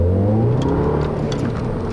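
A 2010 Volkswagen GTI's engine revs hard, with a loud, rising exhaust note heard up close in one short continuous burst.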